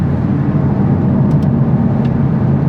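A Honda Civic Type R FL5 drives over an uneven road surface, heard from inside the cabin as a loud, steady low rumble of road and engine noise with a few faint higher ticks.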